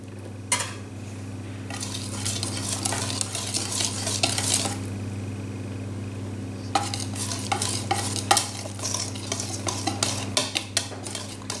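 A spoon works flour and yogurt-pot measures into a vanilla pound-cake batter with chocolate chips to come, giving repeated scraping and clinking bursts against the bowl, separated by a quieter stretch under a constant low hum.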